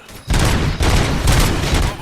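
Gunfire in the video game RoboCop: Rogue City rings out as a loud, close fusillade of rapid shots in several dense bursts over about two seconds.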